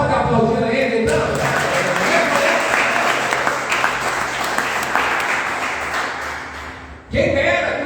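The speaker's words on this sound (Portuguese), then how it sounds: "Você pode aplaudir a Ele?" Church congregation breaking into loud applause during a Portuguese-language sermon, a dense, sustained roar of clapping for several seconds between stretches of a preacher's amplified speech.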